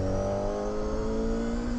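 An old Honda CBR250RR sport bike revs high and hard, a loud, close, sustained engine wail with no talk over it.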